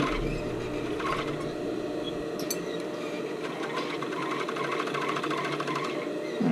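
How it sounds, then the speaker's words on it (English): A sewing machine stitches the side seam of a sports bra, running in a close, steady, rapid mechanical chatter through the whole stretch with no talking. "So I'm going to go ahead and just sew the side,"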